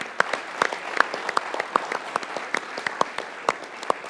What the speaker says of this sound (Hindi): विराट कोहली के लिए एक बार तालियां होनी चाहिए